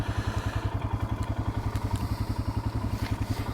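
A Royal Enfield Himalayan motorcycle thumps along at steady speed, its single-cylinder engine pulsing in a rapid, even rhythm with wind rush and light rattles from touring bags.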